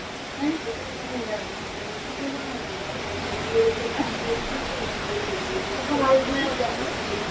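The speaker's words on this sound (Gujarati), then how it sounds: "સવારથી જોરદાર વરસાદ ચાલુ છે" Steady, dense rushing noise of heavy rain fills the whole stretch, a constant wash with faint voices and small sounds underneath.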